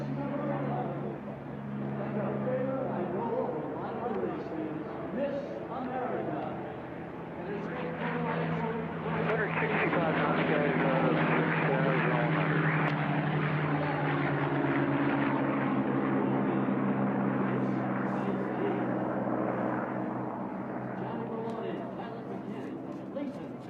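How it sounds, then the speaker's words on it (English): A P-51 Mustang at the National Championship Air Races rolls out with a steady, droning propeller engine hum that swells in the middle. A commentator talks over it throughout. "Another P-51 there as Brent gets that aircraft rolling"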